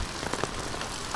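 Heavy monsoon thunderstorm rain with hail in Maharashtra, a dense, steady hiss and patter of drops close by with no voices.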